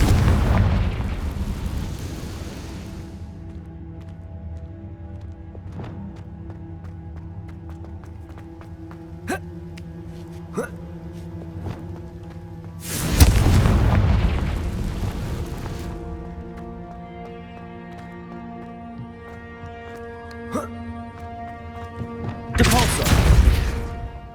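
Loud booming blasts from the Confringo fire spell in Hogwarts Legacy, with one at the very start and two more later, each a heavy burst that decays slowly over a sustained musical score.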